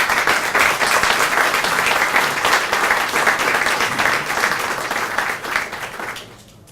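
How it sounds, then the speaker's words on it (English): Sustained audience applause for guests at a gala opening reception in 2017, many hands clapping densely and evenly before tapering off and fading out near the end. "Please, big applause for our guests."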